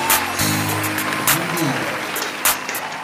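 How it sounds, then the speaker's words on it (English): Brief clapping rises under a voice at the end of a food-tasting stream, a short burst of applause mixed in with ongoing talk. "we got to give a round of applause and a big salute"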